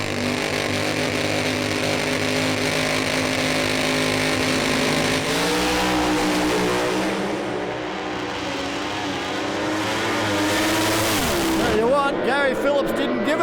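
ACDelco Monaro Pro Slammer drag race cars roar down the strip in a steady, loud engine howl that rises and dips in pitch, ending in a sharper revving surge, with faint voices underneath.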